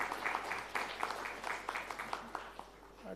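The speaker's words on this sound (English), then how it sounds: "let's have a big round of applause for Dr." An audience at an oil and gas industry talk gives a round of applause, scattered claps merging into a moderate, fairly even patter with a steady hum underneath, thinning toward the end.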